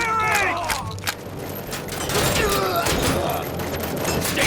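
Dense, continuous gunfire from the video game RoboCop: Rogue City, with rapid overlapping shots and booming impacts throughout, loud and close, mixed with brief voices.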